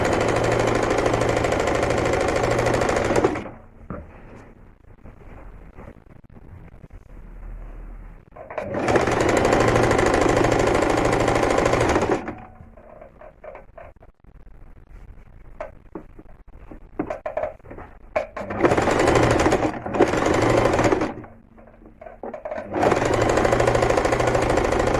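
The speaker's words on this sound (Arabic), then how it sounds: "هنا أبدي أخيط." A sewing machine stitches along the edges of pillow fabric in loud sustained runs of rapid rattling, broken by quieter pauses filled with fabric handling and small clicks.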